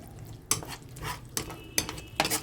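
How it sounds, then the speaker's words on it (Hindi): Tomato-based masala for rajma being stirred and roasted in a pan, a ladle scraping the metal in about five distinct strokes over a faint sizzle, close and without talk. "चलिए इसको भूनते हैं अब हम"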